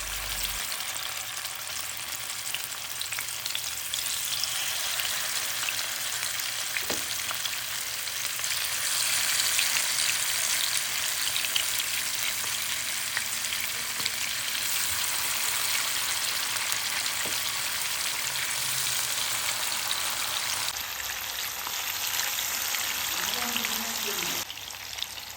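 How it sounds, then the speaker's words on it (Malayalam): Sardines rubbed with asafoetida fry in a pan, producing a steady close-up crackling sizzle that holds at an even level for the whole stretch, with a few small clinks along the way. "എന്നിട്ട് നമ്മൾ വറുത്തെടുക്കുകയാണ്."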